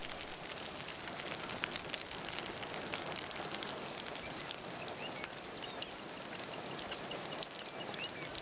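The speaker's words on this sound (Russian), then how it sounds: "Какой май без грозы и обильного дождя?" Heavy May thunderstorm rain falls steadily and loudly, a continuous dense hiss with scattered drop impacts, no voices or other sounds.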